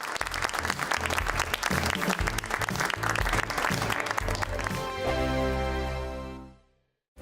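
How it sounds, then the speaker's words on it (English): A television studio audience gives a loud, sustained round of applause for the guests on a GB News talk show, with the clapping settling into music that fades out at the end. "big round of applause for our two guests, Nicole."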